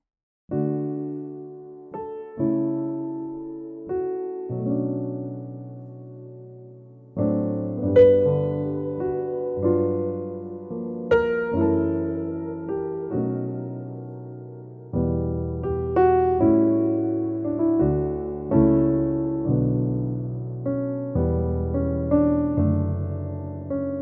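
Solo piano playing a slow, gentle passage of chords and melody, each note ringing into a soft, lingering reverb tail, with no voices.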